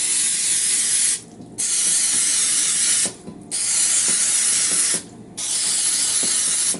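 Nonstick cooking spray hisses into the cups of a muffin tin in four long, loud, close aerosol bursts separated by short gaps.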